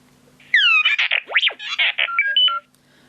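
Sound font selection cue from a Graflex 2.0 Skywalker lightsaber sound board, a quick electronic sequence of chirps, sweeping tones and beeps lasting about two seconds, clear and close over a faint hum.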